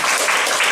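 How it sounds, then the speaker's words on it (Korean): A seated audience at a design talk claps briefly and steadily in welcome, a dense wash of applause with no voices. "여러분 큰 박수로 맞아주시기 바랍니다."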